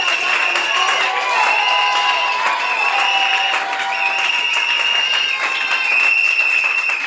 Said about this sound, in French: Acclame fortement le roi de rois.